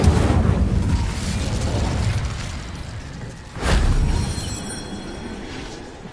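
Incendio fire spell cast in Hogwarts Legacy, a roaring whoosh of flame over a low rumble, with a second burst flaring up midway before settling into a steady crackling hiss.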